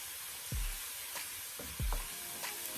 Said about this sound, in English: You just want to saute these for about 20 seconds.